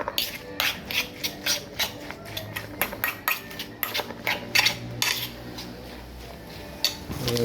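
A utensil clinks and scrapes steadily against a bowl, mixing banana peel omelette batter with a little flour, giving a quick, irregular rhythm of close, bright taps.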